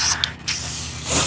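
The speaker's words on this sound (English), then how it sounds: "I just got sprayed in the face." A garden water sprayer hisses in a short, close burst of spray while plants are being watered outdoors.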